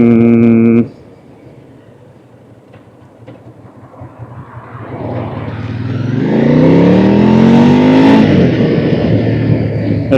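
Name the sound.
road traffic on the commute home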